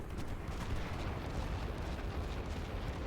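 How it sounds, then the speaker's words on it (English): Continuous rumbling barrage of mortar explosions in The Great War: Western Front, a dense, noisy roar of overlapping blasts with no distinct gaps, steady and moderately loud throughout. "I love how the mortars just keep them suppressed"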